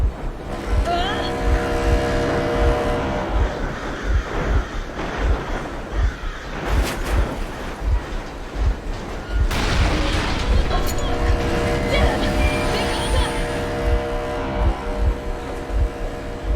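Vehicle engine running in the video game Metro Exodus: a loud, rumbling engine with a pulsing low throb, continuous and near, with a voice speaking over it.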